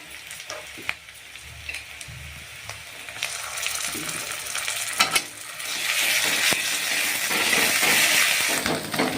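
Onion and chili paste fry in a pan for a Bengali-style rohu fish curry, a steady sizzle that swells louder and denser partway through as the paste hits the hot oil, with scattered clicks of stirring.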